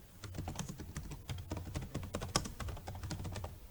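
Fingers type on a computer keyboard with a steady stream of close, quick keystroke clicks in an irregular rhythm and no talking.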